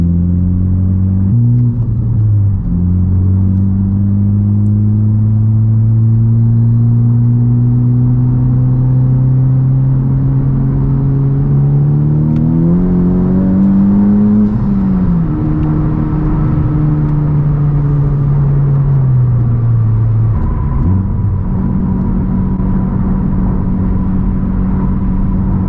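A Honda Civic Type R on a stage 2 full bolt-on tune accelerates hard through the gears, its loud engine note climbing steadily with brief dips at shifts and a sustained pull.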